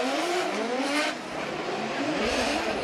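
Formula Drift Japan cars battle in tandem, with Hokuto Matsuyama's brand-new GR Corolla chasing. High-revving engines rise and fall in sweeping pitch with a brief dip mid-way, over gritty tire noise, loud and close.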